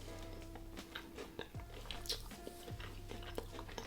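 Someone bites and chews a Viking-style mince pie up close, with soft, moist crunching and squishing bites in irregular bursts.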